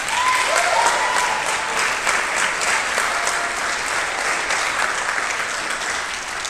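A large crowd gives loud, sustained applause for the graduating class of 2021 seniors at a high school choral event, an even roar of clapping that stays strong and tapers only slightly across the stretch.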